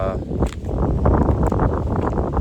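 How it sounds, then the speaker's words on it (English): Wind buffets the microphone in low, rumbling gusts, a steady roar with bursts of noise and some muffled speech-like sounds underneath. "this is probably far too windy"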